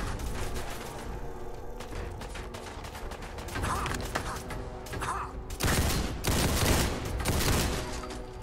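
Enemy gunfire aimed at the player in Fallout 4, a rapid crackling fusillade of shots with mechanical clatter, steady throughout and growing heavier and louder toward the end, close and with no talk.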